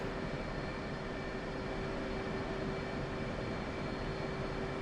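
Jet aircraft sitting on the ground in the DCS flight simulator game, a continuous steady engine whine and roar with a fixed tonal hum, even and unbroken throughout, with no talk.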